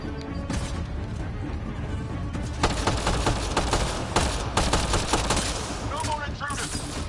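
Rapid gunfire from a new weapon in the Mass Effect Andromeda video game, loud bursts and cracks with impacts and crashes layered over game sound, growing denser in the second half, with a voice over it.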